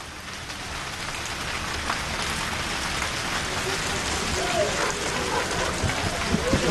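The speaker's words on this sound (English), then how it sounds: "there's a sudden interruption caused by rain coming in from the distant mountains" Sudden rain sweeps over a valley in the Himalayas around Thimphu, Bhutan, a steady close hiss of drops pattering on surfaces, with faint voices murmuring underneath.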